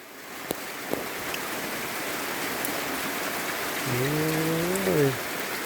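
Rain falls steadily on a farm in rural Thailand as a constant close wash of drops, with a couple of sharp knocks early on and a short tonal wavering sound near the end; no one speaks.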